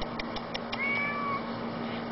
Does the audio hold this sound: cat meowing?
yes